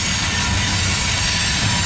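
Norfolk Southern freight locomotives making a reverse move near Alliance, a loud, close, continuous rumble of engines and rolling cars with a high metallic wheel whine over it.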